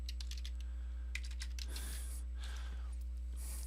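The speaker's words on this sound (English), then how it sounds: "So I'm just going to type in scene 2 here." Keys tapped on a computer keyboard while entering a scene name in Unity, a few quick bursts of clicks followed by a soft rustle, heard close and faint over a steady low electrical hum.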